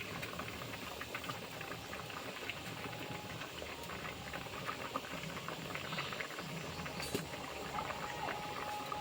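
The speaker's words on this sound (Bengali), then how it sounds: "শুধু মাছটা দিয়ে একটা ফুটিয়ে নামিয়ে আনবো" Fish curry bubbling in a pan, a steady dense crackle and hiss of simmering liquid that stays even throughout, with no voices over it.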